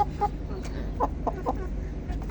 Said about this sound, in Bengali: এখানে আছে আমাদের রাতা মুরগি আর একটা মুরগি